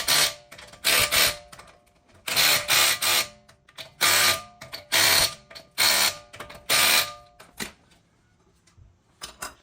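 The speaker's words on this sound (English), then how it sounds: "after we touch the wheel nuts by using that small rattle gun" A small rattle gun runs on the wheel nuts of a Nissan Qashqai, giving about a dozen short, loud, close rattling bursts in an uneven rhythm, then quiet with a faint tap at the end.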